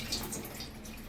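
Soaked sago and split moong dal for payasam are rinsed by hand in water, a brief close splashing and swishing of liquid in a vessel.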